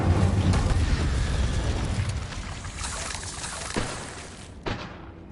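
A fire spell being cast in Hogwarts Legacy, a loud roaring burst of flame and crackling blasts with sharp booms near the end, no talk.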